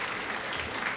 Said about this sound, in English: You can applaud, too.